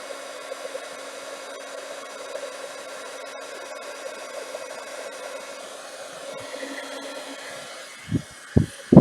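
An embossing heat tool blows hot air over regular embossing powder in a steady, close, fairly loud whooshing hum, holding even for about eight seconds before a few sharp knocks at the end.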